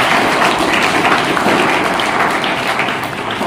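Loud, sustained applause from a crowd greeting arriving guests at a Marathi tree-planting event, dense clapping filling the whole stretch without a break and fading slightly at the end.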